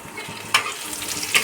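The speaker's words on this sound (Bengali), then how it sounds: "রসুনটা কালো ভাজা হবে না, জাস্ট কাঁচা গন্ধ চলে গেলে আমি পেঁয়াজটা দেব" Four or five crushed garlic cloves fry on low heat in a pan for masoor (red lentil) dal, giving a soft, quiet sizzle with a couple of brief stirring scrapes.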